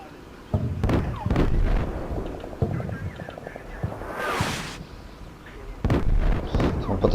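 Artillery shells impact in the Combat Mission Shock Force video game: several heavy booming blasts land at uneven intervals, with a rushing roar in the middle and a low rumble carrying between the impacts.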